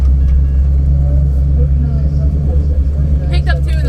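An SN95 Ford Mustang on an autocross run roars with a loud, steady, close engine drone from inside the car, holding a constant note with slight surges, while someone talks over it.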